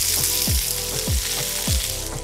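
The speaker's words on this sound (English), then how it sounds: "It is actual sizzling barbecue traditionally made in the Arabic way with fresh food" Traditional Arabic-style barbecue of fresh food sizzles at a Dubai desert safari camp, a steady close hiss of frying with faint crackles running throughout, with no voices.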